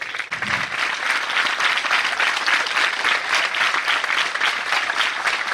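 A seated crowd at a school motivational-speech event gives sustained, dense applause during an honouring ceremony, steady and fairly loud throughout with no talking.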